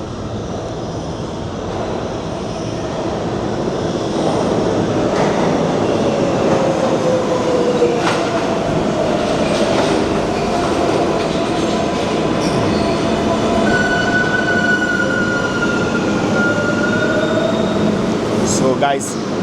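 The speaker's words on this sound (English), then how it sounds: "A subway car is heading into this platform." A New York City 7 line subway train rolls into the Bryant Park station platform, a loud sustained rumble with metallic wheel squeals and rising tonal whines building as it nears.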